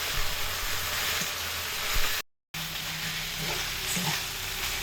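Drumstick (moringa) leaves fry over medium heat in a pan, a broad steady sizzle with occasional stirring scrapes, close and even, interrupted by a short gap of silence.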